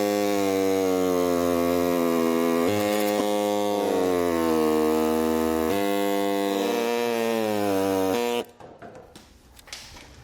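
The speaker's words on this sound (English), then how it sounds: "I'm going to use a little air saw" A small air saw buzzes loudly and steadily as it cuts thin plastic fascia, its pitch dipping and rising with the load, before it cuts off abruptly and leaves quieter clatter and handling noise.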